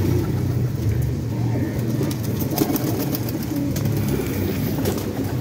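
Pigeons in a gallery coo softly in a low, rolling murmur under steady background noise, with occasional brief clicks and flutters scattered through.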